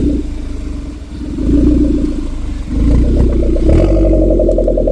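A stock Force Traveler van engine revs near the microphone, a loud low exhaust drone that rises in two steps, with clattering mechanical noise over the deep rumble.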